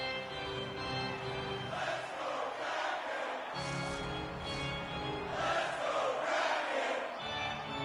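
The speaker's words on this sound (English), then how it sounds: "Crowd back into it here at Climate Pledge Arena." In the NHL 26 video game, an arena crowd at Climate Pledge Arena during an Islanders versus Kraken hockey game roars steadily, swelling louder in waves throughout.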